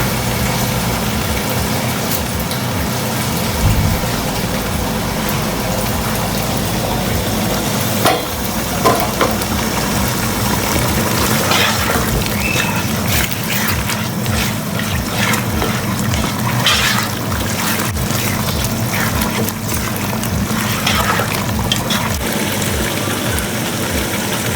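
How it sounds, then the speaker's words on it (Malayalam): Chicken stock hits a hot pan of restaurant-style chilli chicken, setting off a loud, continuous sizzle and bubbling over a low steady hum, with occasional stirring scrapes. "ആ സ്റ്റോക്ക് വാട്ടറാണ് നമ്മൾ ഇതിനകത്ത് ഒഴിച്ചു കൊടുക്കുന്നത്."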